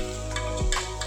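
Onions, ginger, garlic and green chili sautéing in a pan for a Kerala-style beef stew, a steady close sizzle with a brief stir scraping through the middle.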